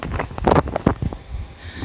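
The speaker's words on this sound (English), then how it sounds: "It's a very chilly day, it's windy." Chilly morning wind buffeting the microphone outdoors near a café, with gusty low rumbles and bursts in the first second that settle into a softer hiss.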